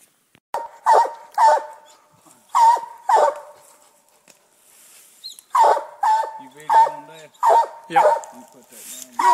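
A coon hunting dog barks repeatedly at night at Taylorsville Lake, with loud, close barks in two bursts separated by a short pause, while someone speaks briefly in between.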